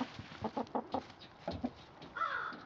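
Hens scratching in the dirt outdoors on a mild spring day cluck in close, quick bursts of short repeated calls, ending in a longer rising squawk.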